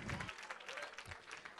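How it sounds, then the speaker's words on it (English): Brief burst of hand clapping applause from a church congregation, a dense patter of many hands at moderate distance over a faint murmur. "Give him another hand clap."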